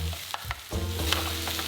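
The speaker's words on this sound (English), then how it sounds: "I'll crack in a few eggs, give them a little scramble, and incorporate that in with all of the veggies so I can stir fry everything together." Vegetables and scrambled eggs stir-fried together for pad see ew with flat rice noodles, a steady close sizzle broken by a few sharp scraping stirs of the pan, with no voices.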